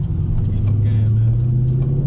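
A Dodge Charger 392 Scat Pack's V8 rumbles with a deep, steady low growl, holding a sustained throaty note close by while faint voices murmur underneath.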